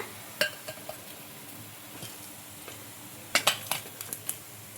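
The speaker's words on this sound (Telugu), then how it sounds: "ఇంకా ఇలా రెడీ అయిపోయిన వాటిని ఒక ప్లేట్లోకి అయితే తీసుకుంటున్నా" Fried rava snacks being lifted onto a plate: sparse light clinks and taps of utensil against metal and plate, with a small cluster of quick clatters near the end over faint kitchen background.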